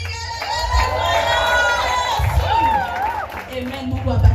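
A church congregation cheers and ululates in praise of Jesus, with high warbling trills over loud crowd noise and a voice speaking through the celebration.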